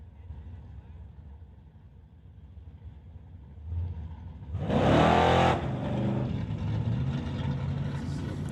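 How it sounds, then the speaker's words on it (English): A 1989 S10 pickup launches at a drag strip during an NHRA Summit ET Series race. Its engine swells into a sharp, loud roar lasting about a second, then settles back under a steady background of announcer talk. "brings up John back on a single in the Rat Torque Systems 89 S10."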